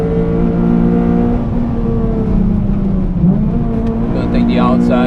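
A Honda Civic FD2 Type R engine hums loudly and steadily from inside the cabin while being driven hard around the Nürburgring on wet tarmac, with a driver talking over it.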